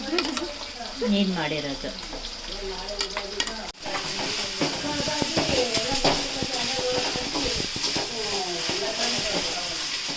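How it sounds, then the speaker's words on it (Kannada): Ginger garlic paste fries and sizzles loudly in a pan with steady stirring, a continuous crackle throughout while people talk over it in the foreground. "ಇವಾಗ ಹಾಕ್ತಾ ಇದ್ದೀವಿ ಶುಂಠಿ ಬೆಳ್ಳುಳ್ಳಿ ಪೇಸ್ಟ್."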